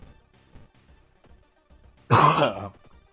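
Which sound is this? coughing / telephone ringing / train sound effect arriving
coughing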